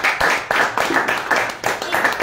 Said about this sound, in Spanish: Muchas gracias, un fuerte aplauso.